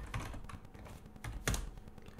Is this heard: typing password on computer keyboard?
yes